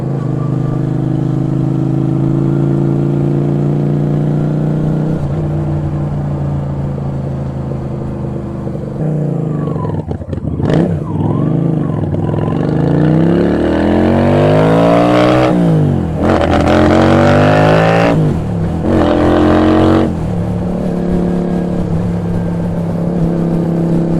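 Yamaha Virago 250 V-twin motorcycle engine heard from the saddle while riding, a loud steady drone that rises and falls as the revs change through gear shifts, with wind noise and no talking.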